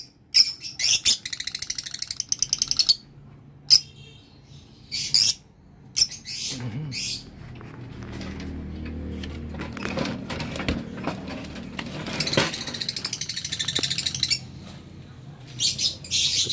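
Lutino lovebirds in a breeding setup give sharp bursts of chirping and chattering, loud near the start and scattered through the rest over a low background rumble.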